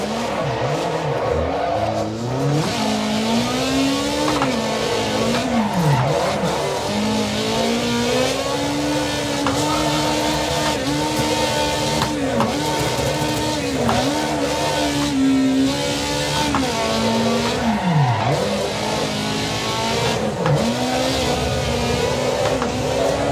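Car drifting in the racing game Assetto Corsa EVO: a loud, continuous engine whine rising and dipping with throttle, with tire squeal and skidding layered throughout, no voices.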